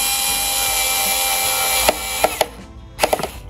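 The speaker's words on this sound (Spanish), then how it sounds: "Ponemos los cuatro tornillos que hacen falta." Screws being driven into the frame of a solar food dryer, a continuous whirring drive that stops, followed by a few sharp clicks and knocks, close up.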